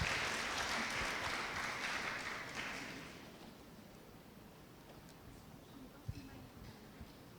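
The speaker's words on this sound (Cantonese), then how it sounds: "俾掌聲佢哋2位同學好唔好啊" Hall audience at a secondary school parents' day and subject-selection talk clapping for two student careers prefects, a broad steady wash of applause that fades out after about three seconds into quiet room noise with a few faint clicks.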